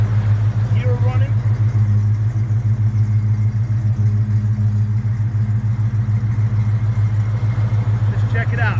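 A 1968 Dodge Charger with its original 383 V8 idles close by with a steady, loping low rumble. A voice is briefly heard over the engine near the start.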